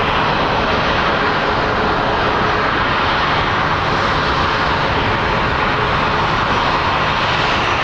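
Jet airliner engines at Phoenix Sky Harbor International Airport roar in a loud, steady, broadband rumble that holds without a break, close and dominant.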